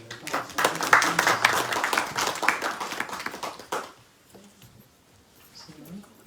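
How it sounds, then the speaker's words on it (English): An audience claps for a mridanga player at an evening kirtan gathering in New York, a burst of clapping that lasts about four seconds and then drops to quiet room sound with faint voices. "One big clap for Mridanga player here."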